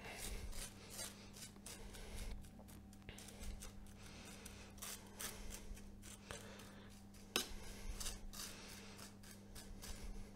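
A knife spreads the chocolate layer on a royal chocolate cake, making soft repeated scraping and rubbing strokes, close and faint, with no talking.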